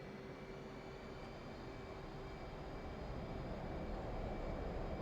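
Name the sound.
F/A-18 Hornet jet engine throttling up, DCS video game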